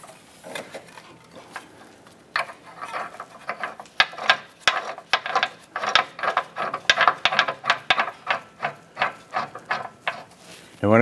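Rapid ratchet clicking comes in quick bursts, close and distinct, as subframe bushing bolts are snugged on a 2008-2013 Nissan Rogue, with a brief pause early on before steady pawl clicks continue.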